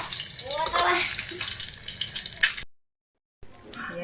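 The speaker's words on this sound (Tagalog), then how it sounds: "Ayan, prito na din tayo ng balomi." Balomi noodles frying in cooking oil left over from frying eggs, giving a steady hiss and sizzle, with a voice briefly over it before a short silent gap and the sizzle resumes.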